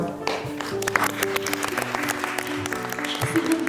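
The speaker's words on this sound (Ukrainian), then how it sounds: "Ласка, завжди аплодуйте акторам." An audience in a theatre applauds the actors with dense, sustained clapping that stays loud and steady throughout, with no pauses.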